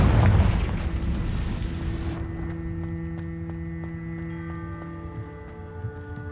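Confringo spell explosion in the Hogwarts Legacy video game, a loud low boom at the start that fades into a ringing, tonal game soundscape with faint clicks.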